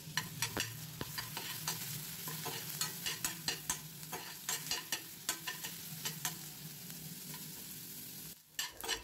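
Onions with garlic and a bay leaf frying in butter and oil in a kadai, a soft sizzle under a rhythm of sharp stirring clicks and scrapes, with a short quiet gap near the end.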